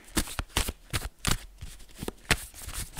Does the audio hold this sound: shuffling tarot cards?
yes